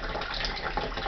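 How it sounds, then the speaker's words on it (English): Tap water runs steadily into a bowl on a kitchen worktop, a close, continuous gushing splash for the whole short stretch with no voices. "even if I now put the tap water"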